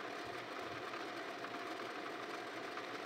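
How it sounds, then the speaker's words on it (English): A wood lathe spins at high RPM while paste wax is buffed onto a turned piece of wood and resin holding Easter grass. It gives a steady, even motor hum with a faint rough rubbing texture and no talking. "turn the lathe up to a higher RPM, and just buff it back"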